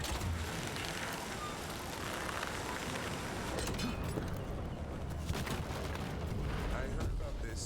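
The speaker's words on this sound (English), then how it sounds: "Explosions." Explosions and rumbling combat noise from the video game Dragon Age: Veilguard, a dense continuous roar of blasts with bursts layered over it, loud and sustained throughout, with speech faintly present in the mix.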